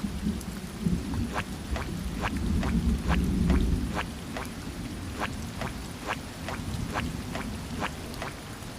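Steady rain pours down with a dense hiss, joined by regular sharp drips or taps striking a surface about twice a second, and no talking.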